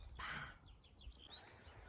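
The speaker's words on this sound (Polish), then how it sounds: "Ptaszki u nas śpiewają." Birds chirp and sing outdoors in early spring near a house under renovation, a few short rising tweets repeating at moderate distance over low background rumble, no talking.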